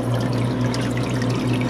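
Water dripping and trickling inside a faulty ice machine that is not running, a close, continuous watery splashing over a low steady hum, loud and unbroken for the whole short stretch.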